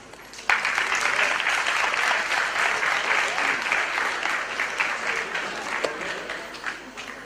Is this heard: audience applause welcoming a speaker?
yes